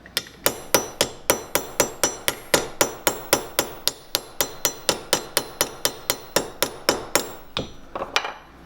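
A hammer peining the sole of a shoe, striking in a steady, evenly spaced series of about two dozen sharp close taps before a short irregular pause and a few final blows.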